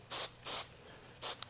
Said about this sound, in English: I'm gonna apply some hairspray in the areas I just trimmed.